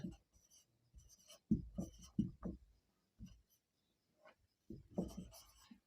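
A pen writes on paper while a maths test problem is worked out. The scratching comes in short, intermittent bursts of strokes, close and quiet, with brief pauses between them.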